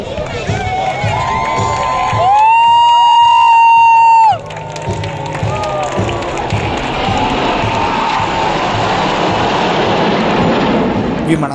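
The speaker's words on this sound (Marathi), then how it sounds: "विमानांचं प्रात्यक्षिक पाहताना पुणेकरांनी केलेला जल्लोष पाहण्यासारखा होता" Spectators at a Pune air show with fighter jets cheer and shout in a loud outdoor crowd, with whistles and a rising roar partway through, then a sustained noisy hubbub.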